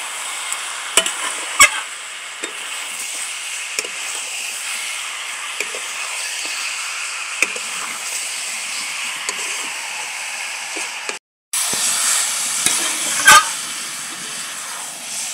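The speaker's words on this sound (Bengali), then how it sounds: "আলু আর এঁচোড় দিয়ে ভালো করে একটু কষিয়ে নেব।" Boiled potato and young jackfruit sautéing in a pan make a continuous low hiss, with scattered clicks and scrapes from stirring and a brief gap before the sizzle resumes.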